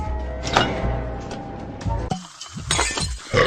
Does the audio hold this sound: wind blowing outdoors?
no